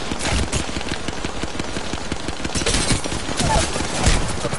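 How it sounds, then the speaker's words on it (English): Sustained rapid automatic gunfire from Apex Legends, a steady loud clatter of shots running without pause throughout. "I'm gonna start shooting him."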